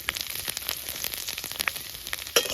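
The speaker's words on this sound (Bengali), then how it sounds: "সাথে শুকনো লঙ্কা আর তেজপাতা নাড়িয়ে দেবো।" Dried chillies, bay leaves and garlic sizzle in hot oil in a pan, a steady crackling fry with scattered sharp pops, close and alone without talk.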